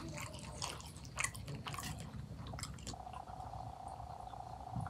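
Someone eats a Bengali chorchori of mola fish cooked with new potatoes, giving soft, quiet, close chewing and squishy bites in a short irregular series.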